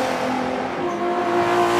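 Race car engine screaming at sustained high revs on Watkins Glen in Forza 7, held loud and steady through the inner loop and bus stop chicane, with no voices.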